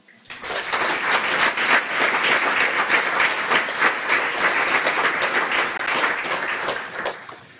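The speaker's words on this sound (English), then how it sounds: "a warm round of applause for the Jacksonville Beach Lions Club" At a guide dog school graduation ceremony, a warm round of applause for a local Lions Club rises quickly and holds as a dense, even clapping from a large audience for about seven seconds, then fades.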